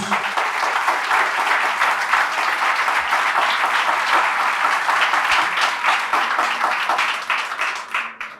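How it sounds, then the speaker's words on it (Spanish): Sustained, loud applause from a church congregation during a sermon, a dense steady wash of many hands that tapers slightly at the end. "Fuerte el aplauso al Señor Jesús"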